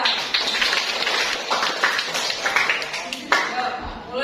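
Classroom of seventh-grade students applauding a classmate, a dense patter of hand claps running throughout, moderately close with some voices mixed in.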